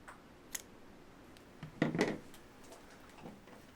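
Fishing line being snipped while rigging a casting rod, a couple of quiet close clicks followed by a louder crisp cut, alone and faint.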